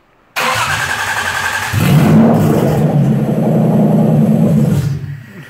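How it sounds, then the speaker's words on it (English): Jaguar AJ30 V6 running full sequential injection on a new MS3X ECU cranks and catches abruptly from silence, idles briefly, then revs up into a louder sustained rumble before dropping off near the end. "So this is a Jaguar V6 running full sequential"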